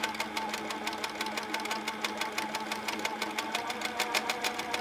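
Sewing machine stitching steadily during free-motion quilting around a square block, a fast even rhythm of needle clatter over a constant motor hum, continuous and close with no talk.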